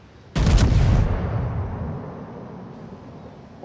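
The battleship Haruna's front guns fire in a naval video game: one sudden, loud, close salvo blast that booms and then rumbles away over a few seconds.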